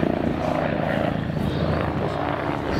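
An Agusta A109 light utility helicopter of the Belgian Air Force at Cosford runs with a steady, loud rotor thrum and turbine whine, close by, with a voice partly mixed underneath.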